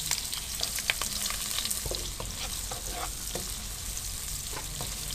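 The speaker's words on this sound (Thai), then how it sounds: "เราจะมาเจียวหอมกันนะคะ ใช้ไฟกลางๆ" Shallots frying in oil over medium heat give off a dense, steady close-up sizzle, broken by frequent light clicks and scrapes as they are stirred around the pan.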